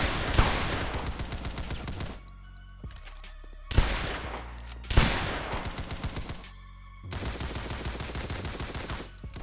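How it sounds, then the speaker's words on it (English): Weapons firing in the Roblox game Arsenal, several loud bursts of rapid automatic fire separated by short pauses, punchy and close. "I love the weapon sounds so far in this game"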